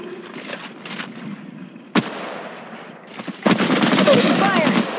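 Apex Legends Mobile gunfire: scattered shots at first, then one loud sharp crack, then a dense burst of rapid automatic fire near the end, with in-game voice callouts between.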